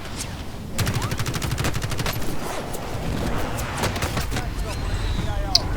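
Rapid bursts of gunfire in the video game Call of Duty Warzone, fast automatic volleys and single shots crackling steadily throughout, loud and close with a sharp report near the end.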